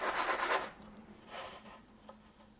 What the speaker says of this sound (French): on va prendre un emporte-pièce rond de 3 pouces et on va venir découper